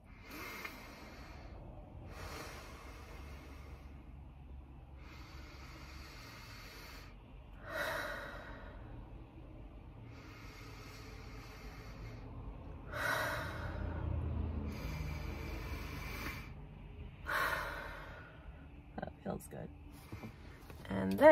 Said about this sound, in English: So first I'm gonna take some deep breaths.